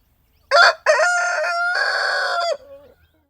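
A rooster named Moustache crows in a garden: one loud, close, drawn-out crow lasting about two seconds after a short opening note, ending in a fainter trailing tail.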